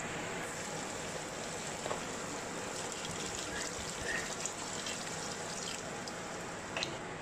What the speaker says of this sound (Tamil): இப்போ கொஞ்சமாக தண்ணி ஊற்றிடலாம்